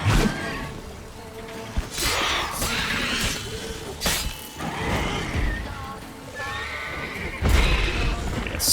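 Horse neighing and whinnying in the video game The Witcher 3, several loud repeated calls mixed with hoof clopping and crashing combat noise, close and without talk.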